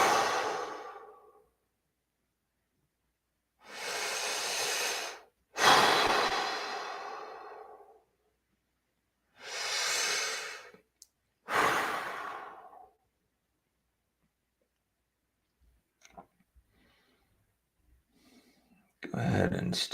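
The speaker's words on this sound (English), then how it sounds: "Let's take 3 deep breaths at your own pace." Three slow, deep breaths are taken during a guided meditation class. Each is a loud, close inhale and a long sighing exhale, separated by silent pauses, with faint soft sounds near the end.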